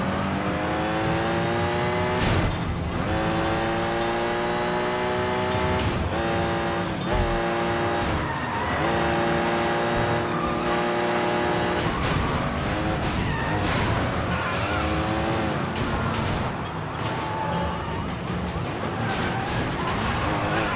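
Cars crashing and skidding in the GTA video game, a busy stretch of engine revving, tire squeals and sliding over sustained tonal motor whines, with repeated impacts and bursts of skidding throughout.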